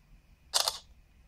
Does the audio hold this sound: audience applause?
no